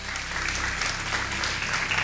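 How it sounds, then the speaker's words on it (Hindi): Studio audience at a television quiz show clapping together, a dense steady burst of applause filling the whole moment without a break. "तालियों के साथ हम आपका अभिनंदन करते हैं"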